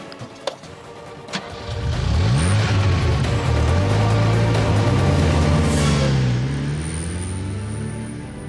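A car starts up and pulls away, its engine note rising and swelling loudly over several seconds before easing off slightly as it drives off, preceded by a couple of sharp knocks.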